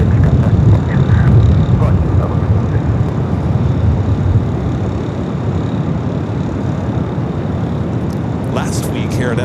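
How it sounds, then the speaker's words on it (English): JetBlue Airbus A321 jet airliner at LAX in gusty winds, a broad low engine roar, strongest at first and then easing as it continues, with wind noise mixed in. "JetBlue Flight 700 heading to Fort Lauderdale at A321"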